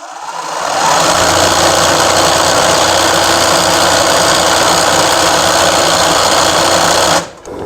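An embroidery machine stitches a leaf design, running as a loud, steady, rapid mechanical whir with a fast needle rhythm for several seconds, then stopping abruptly.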